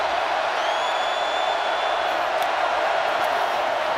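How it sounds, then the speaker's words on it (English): A large stadium crowd at a 2019 Georgia Bulldogs versus South Carolina Gamecocks college football game roars in a dense, sustained wash of noise, with a few faint whistles cutting through. "and the crowd comes into it"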